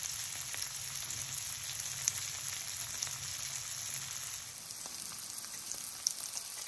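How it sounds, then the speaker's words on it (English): Morel mushrooms frying in a pan, a soft, steady crackling sizzle with scattered small pops and spits, fairly quiet and continuous throughout, with no voices. "I'll go ahead and put all these in here, and they'll go ahead and cook for a little bit"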